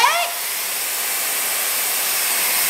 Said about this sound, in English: let's test out how powerful this airflow is before I actually use it on my hair